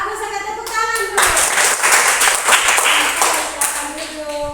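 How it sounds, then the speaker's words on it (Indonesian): A teacher claps her hands for a student group's class presentation, a burst of quick, sharp claps that runs for a few seconds, loud and near, with a voice speaking briefly before and after. "saya tepuk tangan dulu"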